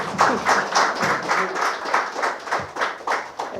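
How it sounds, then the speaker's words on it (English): An audience at a scholarship presentation ceremony applauds with steady, rhythmic clapping in a hall. It sounds like many hands at moderate loudness, pulsing in regular waves with no speech over it. "Let's give Fadina another round of applause."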